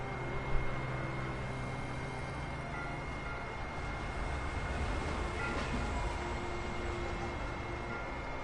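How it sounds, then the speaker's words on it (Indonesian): Train in the video game Alan Wake Remastered: a continuous, loud rail rumble and hiss that holds steady throughout with no pauses. "Kereta api, kereta api, kereta api"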